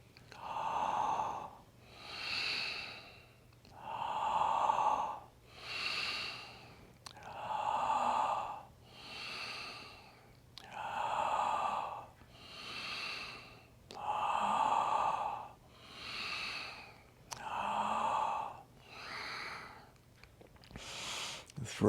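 A guided breathing exercise: a person takes deep, slow breaths in a steady cycle, about ten loud, close, airy inhale-exhale swells every two seconds or so, with a faint low hum underneath.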